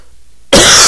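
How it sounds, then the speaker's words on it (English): A single loud, harsh cough bursts out close after a half-second of near silence, from a man with a bad cough. "I'm sorry, I have a really bad cough today."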